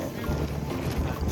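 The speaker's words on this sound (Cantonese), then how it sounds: "今日天氣唔好啊，又大風又大雨" Strong wind blowing across the microphone on a rainy, stormy day at Ba Na Hills in Vietnam, a steady loud rumbling roar that fills the whole moment.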